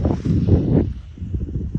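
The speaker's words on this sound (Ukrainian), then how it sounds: "вітер гуляє, тобто пиляка йде" Outdoors over a melon field, wind carrying dust buffets the microphone in a short gust, then drops to a lower rustling rumble.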